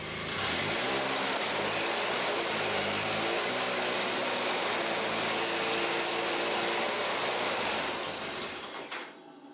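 An Arctic Cat XF9000 snowmobile engine runs steadily up close with its track spinning, a loud continuous drone with a rhythmic whir, cutting out at the very end.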